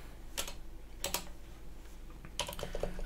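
Keystrokes on a computer keyboard as a Linux terminal command is typed and tab is pressed, with three short clusters of quick clicks, close and faint over a low steady hum.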